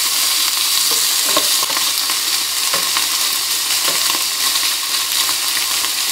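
Mushrooms fry in a pan with glassy-softened onions and garlic, ham to follow, making a loud, dense, continuous sizzle with faint stirring scrapes and clicks throughout, no voices.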